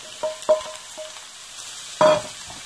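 Grated garlic and leeks fry in a pan with a soft sizzle broken by a few brief stirring clicks and scrapes, close but quiet, with no talking.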